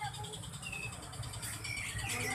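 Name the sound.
birds chirping in a cage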